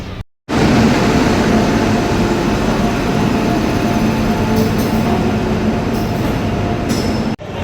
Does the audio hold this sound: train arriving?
yes